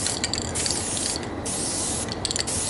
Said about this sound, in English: So let's try out the new Krylon can.